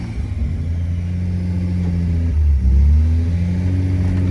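A warm Datsun 280ZX turbocharged L28 engine idles with a deep hum, then revs up briefly in a rising surge before settling back, loud and close.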